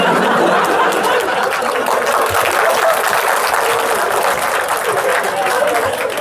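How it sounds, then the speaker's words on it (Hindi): A seated crowd at a talk session bursts into sustained, dense applause close by, continuous hand clapping blended with some chatter and light laughter throughout. "Do not start clapping."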